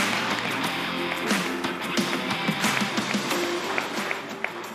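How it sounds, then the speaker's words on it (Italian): A studio audience claps during a sports television programme, a steady broadband patter of many hands with sharper individual slaps. It sounds moderately close and lasts the whole stretch without talk. "Un applauso al papà di Emiliano."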